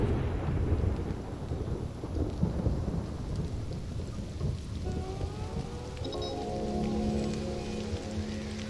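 A thunderstorm with rain and thunder in the jungle survival game Stranded: Alien Dawn, with steady heavy rain throughout, rumbling thunder, and tonal game music rising late in the clip.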